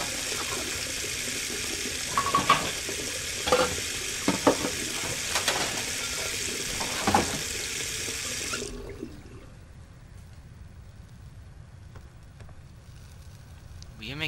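Tap water runs steadily at a sink as hands are washed in the Beyond: Two Souls video game, with clinks and stirring sounds over it, then cuts off abruptly, leaving a quiet room tone.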